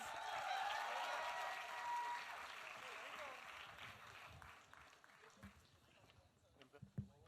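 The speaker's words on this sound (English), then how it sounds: "Big round of applause" Audience applause and cheering at a media event for a celebrity talk show, loud at first with mixed voices and shouts, then thinning and fading over several seconds into scattered claps and chatter.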